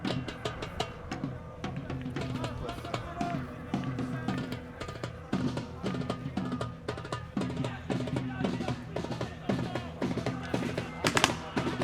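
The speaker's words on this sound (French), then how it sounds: "Grenade! Grenade, faites gaffe!" Sharp blasts and pops from grenades at a protest on occupied land crackle through a noisy outdoor scene, many bangs scattered through a dense background of crowd noise and shouting, with a stronger burst near the end.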